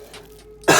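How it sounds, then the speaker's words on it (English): A single sharp cough bursts out close by after a moment of near silence, loud and raspy. "But if I cough"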